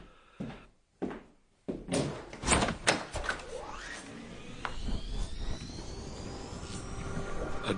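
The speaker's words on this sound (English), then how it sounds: "A gust of air whirled round me as I opened the door" A door is opened as a radio drama sound effect: a few sharp clicks and knocks of the handle and latch, then a rushing gust of air that swells and keeps blowing steadily.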